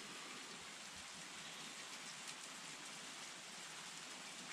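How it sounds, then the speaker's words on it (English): Steady rain drums on the roof of a timber-frame house under construction, a dense continuous hiss close overhead with no talk. "It's nice being under this roof right now in the rain."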